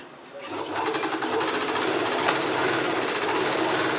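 A sewing machine runs steadily while stitching pant fabric, its dense rapid needle chatter continuous and close after a short quieter start, with no talking.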